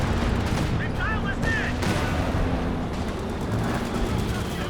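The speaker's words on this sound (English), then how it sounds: "Major arty dropped again" Artillery and gunfire rumble through a match of Company of Heroes 2, a dense, continuous battlefield roar with scattered shots and booms layered in the distance and no clear pauses.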